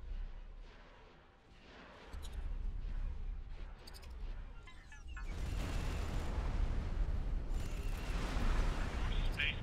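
Deep rumbling explosions and booming fire roll on in the Star Wars Interworlds space game as a New Republic station is attacked, swelling louder and denser toward the end.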